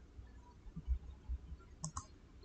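Computer mouse clicks while installing printer software on a PC: a handful of soft, close, dry clicks spaced irregularly over a couple of seconds, quiet and alone with no talk.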